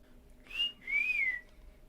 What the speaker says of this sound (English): He whistles.